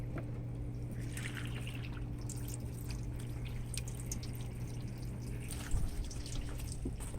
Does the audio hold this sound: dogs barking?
no